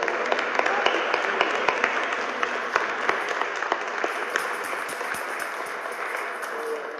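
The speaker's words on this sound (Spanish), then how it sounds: "Un aplauso grande," Congregation applause during a solemn Christmas Mass, a sustained even patter of many hands clapping in a reverberant church, moderately loud with a few sharper claps standing out throughout.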